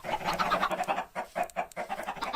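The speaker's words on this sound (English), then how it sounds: "welcome to the loud chicken exhibit" A chicken in a video game zoo exhibit, rapid repeated clucks and panting squawks in a quick uneven rhythm, close and fairly loud with no talk.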